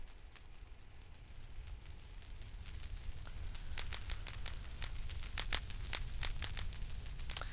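Fire crackles in a Minecraft-style video game forest, a steady soft hiss dotted with many sharp pops and snaps that grow busier toward the end.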